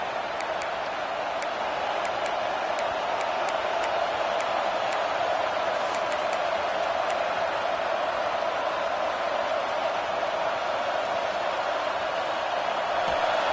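Roaring stadium crowd at a Kansas State college football game, a dense sustained wall of cheering and noise, loud and unbroken, with faint sharp clicks and taps scattered through the first half.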